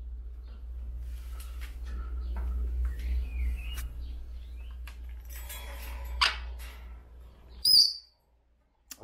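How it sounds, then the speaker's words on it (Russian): A pair of grey parrots calls in short chirps and whistles over a low steady hum, with one louder squawk near the end. "у меня есть одна пара влюбленных красивых попугаев."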